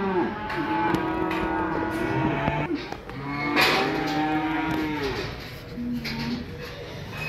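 Cattle lowing and mooing at a busy livestock stockyard, several animals calling close by in overlapping, drawn-out moos, with steady background commotion throughout.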